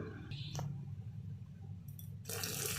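Water is poured from a pot onto washed rice in a home kitchen. Soft watery clinks and sloshes come first, then a brighter splashing pour rises at the end.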